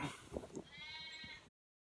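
A baby goat gives a short, nasal, wavering bleat up close. Some soft rustling and handling noises come just before it, and the sound ends abruptly.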